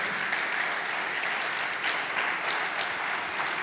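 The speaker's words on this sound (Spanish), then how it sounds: "un aplauso a Dios" Congregation at a Spanish-language church service breaks into applause, a continuous bright patter of many hands clapping at moderate distance, fairly even in loudness and heard alone without speech.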